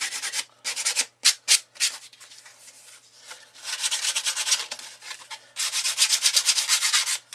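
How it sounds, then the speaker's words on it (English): A cut-out plastic model piece is rubbed to smooth off its sharp edges, making repeated close scratchy sanding strokes in short bursts and then longer sustained passes, with no talking. "Give it a quick rub just to get rid of any sharp edges."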